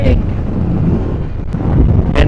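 Wind buffets the microphone during a ride through Tagaytay, a steady low rumbling roar that holds for the whole stretch without letting up.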